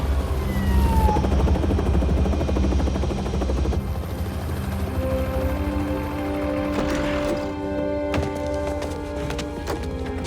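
A helicopter from the Spider-Man 2 video game arrives loudly and close, its rotor drone steady beneath layered game effects and a rising musical score.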